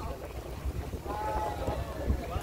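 A boat ride to Calaguas Island, with a steady engine drone and the rush of wind and water across the whole stretch, close and continuous.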